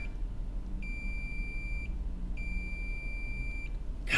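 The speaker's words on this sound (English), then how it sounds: "We're going to touch the two probes together, hear the beep." Two steady high-pitched continuity beeps from a multimeter as its probes touch together, each lasting about a second, loud and clear over a low hum.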